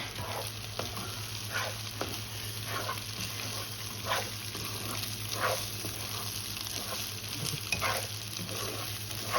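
Semolina and egg halwa with almonds roasts in a pan, a soft steady sizzle broken by repeated scraping and stirring strokes at a moderate, even pace.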